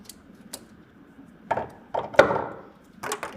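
Plastic tonneau cover drain tube being cut during installation on a 2024 GMC Sierra 1500 pickup, heard as a few close, dry snips and crunches in short bursts, no talk.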